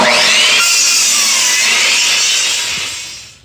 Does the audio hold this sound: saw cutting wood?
yes